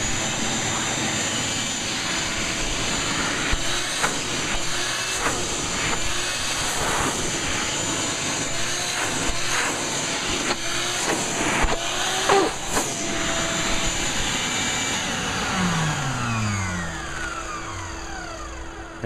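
Shop vac running with a 2.5-inch EZ Flex dust collection hose: a loud, steady, roaring whine that stays constant, with brief rustles and shifts in pitch as the hose moves, no talk.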